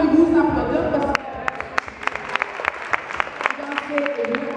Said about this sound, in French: Donc moi je vais vous applaudir